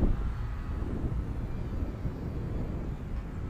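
A Hobbyzone Sport Cub S radio-controlled airplane flies at full throttle on a windy day, giving a steady buzzing drone mixed with rumbling wind noise on the microphone, moderately loud with no pauses.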